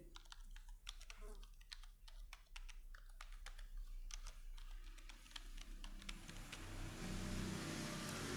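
Rapid keystrokes clatter on a computer keyboard while an email ID is typed, a dense irregular run of close, crisp taps, with a rising vehicle engine or rushing noise swelling underneath toward the end.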